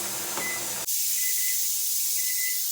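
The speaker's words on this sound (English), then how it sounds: "So now I'm going to vent the pot for 10 minutes." Steady, loud hiss of steam venting from a pressure canner holding beef in red wine sauce before the weighted gauge goes on, broken by a brief dip near the start, with faint high beeping tones running through it.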